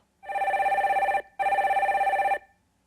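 A telephone rings for a call-in on a Korean stock market radio show, two long, steady electronic ring bursts separated by a short gap, loud and clear with no talk over them.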